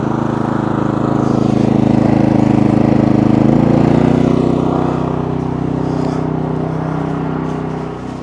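A PROYAMA 4000 watt portable generator runs loud and steady at high idle, its engine a continuous close drone whose pitch rises slightly midway, with no one speaking.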